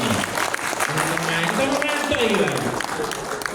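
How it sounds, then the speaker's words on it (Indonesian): Audience applause in a hall at the opening of a Kopertais IV leadership meeting in Surabaya, steady and fairly loud for a few seconds, with voices talking over it. "Ya tepuk tangan lah kayak begitu ini"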